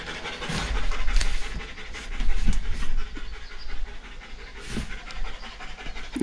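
A dog pants loudly and close in a garage, a rapid steady rhythm of breathy huffs continuing throughout with no talk over it.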